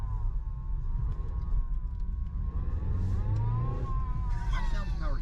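A car's power steering whines steadily like a wind-up toy, rising in pitch near the end over a low engine rumble, with voices talking nearby.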